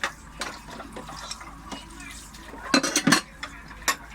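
Dishes being washed: clinking plates and cutlery with splashing water, a cluster of sharp clatters midway, recorded close up.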